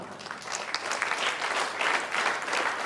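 A church congregation claps together in sustained, dense applause, steady and fairly distant throughout, with no voices standing out above it.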